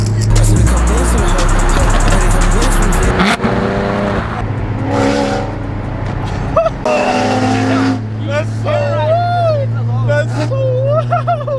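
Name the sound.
Nissan GT-R car engine revving loudly on street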